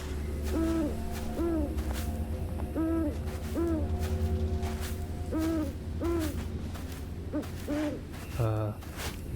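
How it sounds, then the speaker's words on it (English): A barn owl hoots in a forest area of the video game Fariwalk: The Prelude, repeating short paired calls at a regular pace over a constant ambient drone, moderately loud, with a brief different sound at the end. "Is that a barn owl?"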